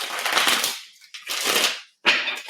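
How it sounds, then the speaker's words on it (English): A deck of tarot cards is shuffled by hand in three quick bursts of riffling, close and crisp, separated by short pauses, with no talking. "So one more shuffle."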